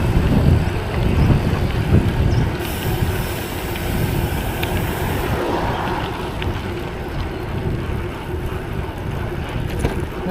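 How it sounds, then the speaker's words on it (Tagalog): Strong wind buffets the microphone during a road bike ride on the Laguna Loop via Jala-jala, a loud, steady low rumble that roars for the whole stretch with no voices. "Grabe sa lakas ng hangin."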